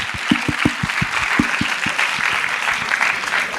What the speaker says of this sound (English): You must give her a big round of applause.